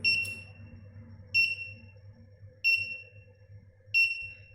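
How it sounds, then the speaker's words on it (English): A surveillance robot's buzzer beeps four times in evenly spaced, sharp bursts when an obstacle is detected, standing out clearly over a steady low motor hum. "Now I will once again show how the motor stops and buzzer works in case we add an obstacle."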